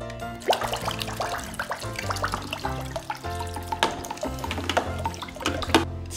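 A swimming toy paddles in a warm bath full of water, giving continuous close sloshing and splashing with small drips over a steady tonal background.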